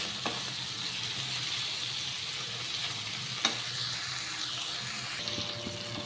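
Cluster beans with curry leaves fry gently on low heat in a pan, giving a soft, steady sizzle with a couple of faint clicks of stirring, no voices over it.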